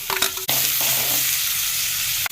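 Onions hit hot oil in a pan for potato masala, bursting into a loud, close sizzle that holds steady, with a brief stir or clatter at the start and a short break near the end.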